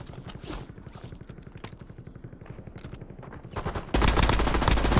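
Video game gunfire rattles in rapid, evenly spaced bursts, loud and close, then swells into a dense roar of shooting near the end, with no one talking.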